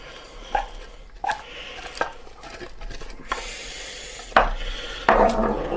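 Cooked rice is stirred into a pan with a spoon. Close scraping and knocking sounds come in irregular strokes and build into a louder, continuous scrape toward the end.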